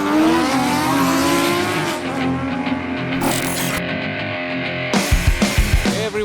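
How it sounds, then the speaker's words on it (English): A 2025 Moto Morini Seiemmezzo SCR 650 twin ridden through Dubai city streets, its engine droning loud and steady with rising and falling revs, joined near the end by a burst of deeper throttle pulses. "We are riding through it on an Italian-born Moto Morini Seiemmezzo SCR."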